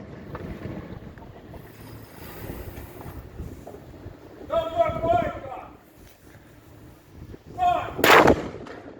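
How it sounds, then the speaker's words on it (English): Ceremonial cannon shots from a gun salute in Guernsey boom out, two heavy blasts a few seconds apart with rolling echoes, amid outdoor background noise and shouted commands. "13-gun salutes carried out to commemorate the passing in battle of"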